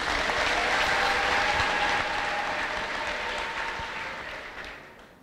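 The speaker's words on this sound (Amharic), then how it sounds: "እስቲ አጨብጭቡ ባካችሁ" A congregation at a church service claps in sustained, dense applause, loud at first and slowly tapering off over the final seconds.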